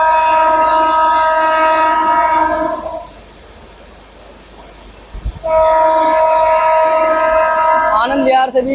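Bihar Sampark Kranti Express passing through Anand Vihar station at reduced speed, its loud sustained horn blaring, cutting out briefly to the rumble of the train, then sounding again close and strong.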